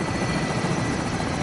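Helicopter rotor drone from a Call of Duty: Modern Warfare Plunder match, a steady, dense whirring wash that stays loud and constant throughout with no voices over it.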